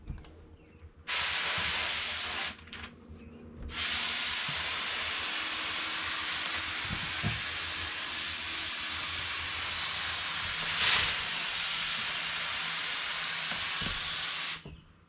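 Spray paint being applied to a Pontiac Vibe car part, with several long hissing bursts from the can and brief pauses between them, close and loud with no talk.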